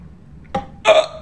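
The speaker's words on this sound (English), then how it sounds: "Guys burping." Men burping, two separate belches in quick succession: a short one followed by a louder, longer rasping burp, close and alone with no talking.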